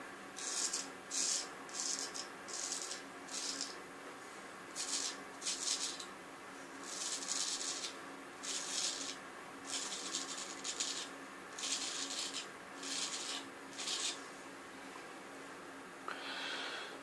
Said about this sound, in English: So I'll just shave test these.